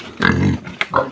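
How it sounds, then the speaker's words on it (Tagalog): A pig on a farm, to be roasted whole as lechon, gives loud close grunts and a drawn-out snorting oink, followed by a couple of shorter grunts. "Ito na po mga ka-idol yung lilitsunin nating baboy"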